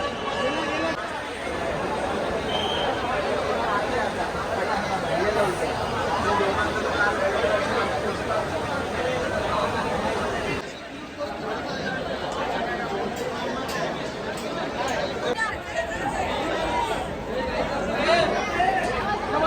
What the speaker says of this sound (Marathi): जाम गर्दी आहे इथे पण